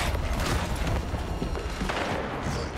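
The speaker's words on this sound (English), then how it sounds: "you need to calm down with all the shooting" Rapid, dense video game gunfire, a continuous loud volley of overlapping shots and booms.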